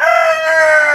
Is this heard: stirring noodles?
no